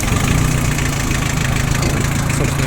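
A Mitsubishi MT2201 snow tractor with a snow-blower attachment, started in sub-zero cold after standing, idles steadily with a low, even diesel chug that stays close and loud from start to finish.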